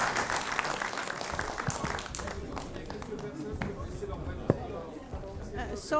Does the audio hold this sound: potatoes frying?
no